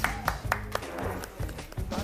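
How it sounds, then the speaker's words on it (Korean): A few people clap in quick, separate bursts around a table while eating braised chicken with ramen noodles, the sharp claps landing close and irregular among chatter and exclamations. "박수"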